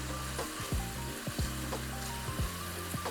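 Butter sautéing in a pan over moderate heat, a steady close sizzle with scattered light clicks and a low background hum, no voices.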